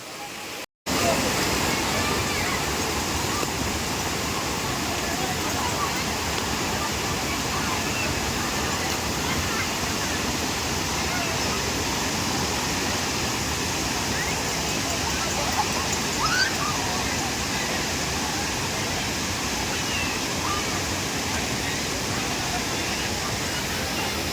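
Water pours steadily over Akkadevi dam in a continuous, loud rushing roar that fills the whole stretch without a break.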